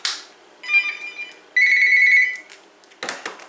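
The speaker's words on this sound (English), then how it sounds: "and check out the flicker ringtone" A Uniden EXAI5680 cordless phone plays its flicker ringtone, a few electronic tone bursts, loud and close, with a short pause between phrases and a brief rustle at the end.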